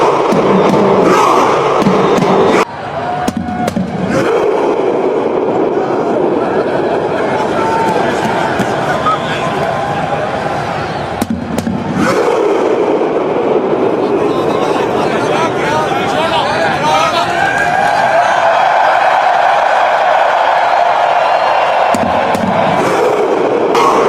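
A football crowd at a Brazil versus Norway World Cup match performs the Viking thunderclap while captain Odegaard beats a drum to set the pace. Loud, massed chanting and thumping roar almost continuously, broken by a few brief pauses.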